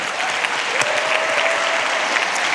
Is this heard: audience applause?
yes